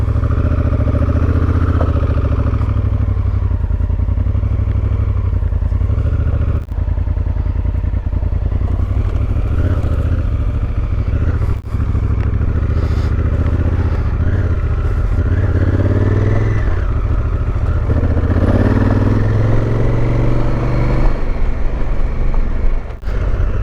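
A motorcycle on a long-distance road trip, its engine droning steadily and close for the whole stretch with wind and road rumble, no talk over it.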